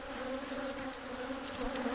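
A swarm of agitated bees buzzes steadily around a hive being cut out of a wall cavity, the dense drone continuous and close for the whole stretch with no voices over it.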